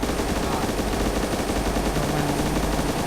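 Sustained automatic gunfire in ARMA II DayZ, a loud, steady, rapid rattle of shots continuing without pause throughout.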